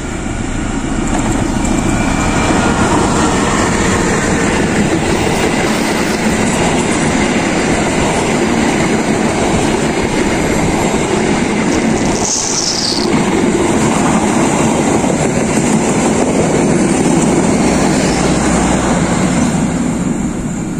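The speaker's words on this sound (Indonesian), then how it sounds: "Sahabat, baru saja melintas kereta api Argoilis yang menuju ke arah stasiun Manonjaya." The Argo Wilis passenger train rolls steadily past close by amid green countryside, a continuous loud rumble and rattle of wheels on track, with a brief metallic squeal midway.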